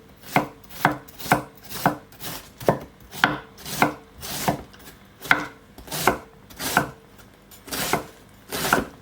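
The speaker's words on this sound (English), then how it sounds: "I'm just going to thinly slice this." A knife thinly slices a head of cabbage on a wooden board, making crisp, regular crunching chops about once a second, close and loud, with nobody talking.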